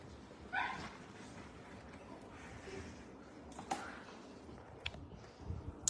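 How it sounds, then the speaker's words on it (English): Puppy giving a few faint yips, barks and whimpers indoors, scattered sharp little cries over a quiet, muffled background with no voices. "The puppy is with Josh."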